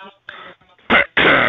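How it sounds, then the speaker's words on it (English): Over a phone line, a voice gives two harsh, loud coughs in quick succession after some faint muffled sounds, with the narrow, band-limited tone of a call. "Why do you keep coughing?"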